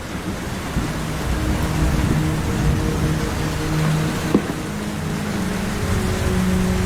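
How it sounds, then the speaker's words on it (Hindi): Heavy jungle rain in an animated children's story, a continuous broad hiss of downpour with low rumbling underneath and a brief knock partway through, steady and loud throughout. "पिछले 7 दिनों से जंगल में बहुत तेज बारिश हो रही है।"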